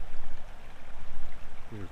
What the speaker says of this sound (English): Look at these beautiful clean clear streams here, just coming down out of the mountains.